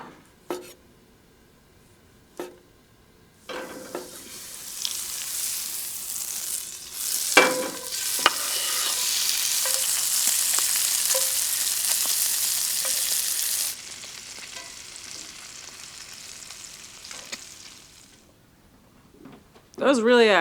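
Thinly sliced boiled food frying on an outdoor barrel stove beside a greenhouse: a loud, dense sizzle starts abruptly and runs for about ten seconds, broken by a few utensil clatters, then stops, with brief sounds before and after.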